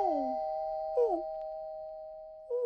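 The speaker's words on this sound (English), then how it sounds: "just needs to ring the doorbell" A cartoon doorbell rings in bright chiming ding-dong tones, struck three times with sustained ringing between presses, clear and close.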